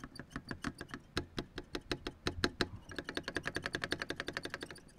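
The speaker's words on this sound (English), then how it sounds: "You want to hear what the strum bar sounds like?" A Guitar Hero guitar controller's strum bar clicks repeatedly, sharp plastic clacks in an irregular run that speeds into a fast even burst near the end, close and alone.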